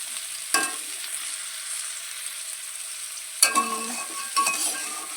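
Chili and cumin sizzle with raw pumpkin in a hot frying pan, a steady close hiss broken by a few scraping stirs, with no voices.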